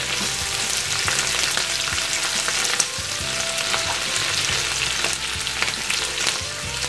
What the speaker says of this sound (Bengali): এখন এই শুটকি সহ পেঁয়াজ এবং মরিচ রসুন ভেজে নিতে হবে।